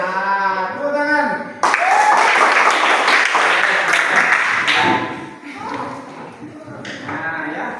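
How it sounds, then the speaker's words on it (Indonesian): A classroom group claps together after a children's action song, with a dense burst of applause mixed with children's voices and shouts, fading as talk resumes. "tepuk tangan."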